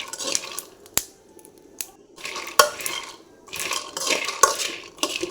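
Peanuts being dry-roasted and stirred in a pan, with repeated scraping and rattling bursts of the nuts tumbling against the metal, punctuated by a few sharp clicks of the spatula, close and fairly loud, no talking.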